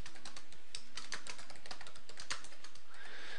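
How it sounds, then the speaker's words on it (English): Rapid clicking keystrokes on a computer keyboard, close and fairly quiet, in irregular bursts with short pauses. "we can go ahead and start typing in our navigation"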